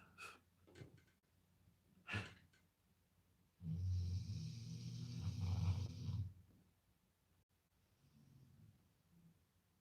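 A woman snores loudly and steadily at close range for a few seconds, preceded by fainter breathing and snorting, then settles back into quiet breaths.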